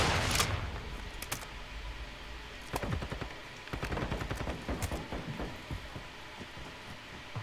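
Gunfire from Call of Duty: Modern Warfare II comes in scattered bursts of automatic shots and single cracks, some close and sharp, others softer and more distant, against a low ambient rumble.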